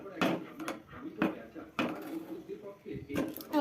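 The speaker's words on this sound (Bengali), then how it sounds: "আমাদের এখন আলু সিদ্ধ মাখা চলছে" Boiled potatoes mashed by hand in a bowl for homemade fuchka filling, giving a few irregular, close, soft thuds and squelches while someone talks.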